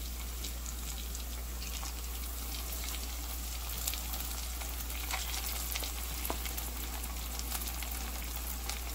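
Cooked rice is stirred into a frying mix of tamarind and crispy browned onion for tamarind rice, giving a steady, close sizzle with scattered scraping and clicking from the stirring.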